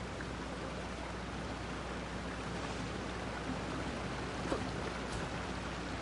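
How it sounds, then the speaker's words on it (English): A waterfall in the PS5 game Genshin Impact pours in a constant, dense rush of water that stays even and loud throughout, with no talk. "Listen to that waterfall."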